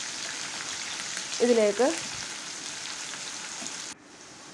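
Chopped ginger, garlic and green chillies fry in a pan, a steady close sizzle throughout, with a brief spoken word and a few stirring clatters midway.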